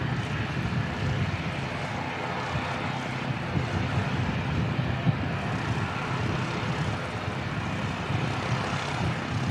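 Air New Zealand flight NZ5350 departing Christchurch Airport for Wellington, a continuous broad aircraft engine roar held at a steady level throughout, heard from a distance with some wind rumble.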